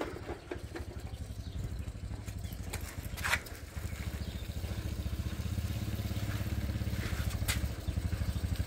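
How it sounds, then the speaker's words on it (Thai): A Mitsubishi FUSO 6D17 diesel engine runs at a steady idle, its rapid rhythmic knocking pulse fairly quiet and continuous, with a brief clank partway through. "เดี๋ยวมาฟังเสียงเจ้า 6D17 นะครับผม"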